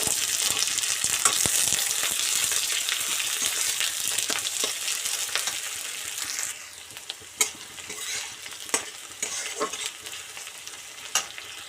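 Onions frying in a little oil for a country-style chicken curry make a steady, close sizzle, and a spoon scrapes and stirs through it. Sharper stirring knocks stand out over the last few seconds.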